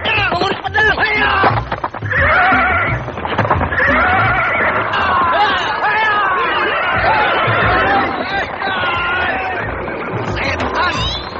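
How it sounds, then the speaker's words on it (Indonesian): Horse neighing and whinnying mixed with galloping hoofbeats, staged as an effect in an Indonesian radio drama chase scene; loud and continuous throughout, with the neighs rising repeatedly over the clatter of hooves. "Seorang pemuda menunggang kuda dengan kecepatan tinggi menuju ke sini."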